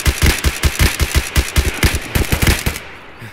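Automatic gunfire in Escape from Tarkov, a loud rapid burst of about twenty evenly spaced shots that stops abruptly near the end, heard close with no talk over it.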